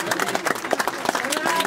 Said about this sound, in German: das war mir zu wenig Applaus für unsere Gäste. Sie wollen sich doch warm applaudieren